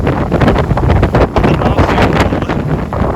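Strong wind roars during a night storm in open farm fields, loud, steady and buffeting across the whole stretch, with heavy gusty rumble and no voices.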